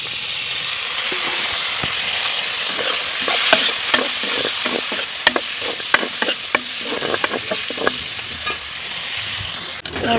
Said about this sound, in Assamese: এতিয়া মই দিম আলুখিনি।